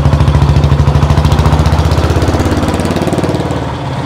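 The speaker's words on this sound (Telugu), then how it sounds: "ఇప్పుడు మన ఈ బుల్లెట్ బండి చూస్తున్నారు కదా ఎట్లా సౌండ్ బీటింగ్ ఎట్లా వస్తుందో" A 1996 old model Bullet motorcycle engine beating at idle, a loud, close, rapid and even thumping pulse that holds steady throughout, with no voices.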